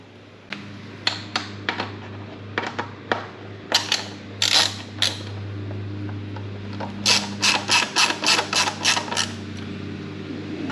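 Chrome air filter cover bolts on a Kawasaki Vulcan 1700 Vaquero are snugged up by hand with a ratchet, bringing scattered close clicks and then a quick run of rhythmic ratcheting ticks over a low steady hum.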